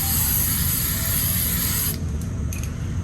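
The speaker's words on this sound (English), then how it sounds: "I'm gonna use my oil sheen." Oil sheen sprays from an aerosol can onto braided hair in a long, close, continuous hiss that stops near the end, followed by two short, faint follow-up spritzes.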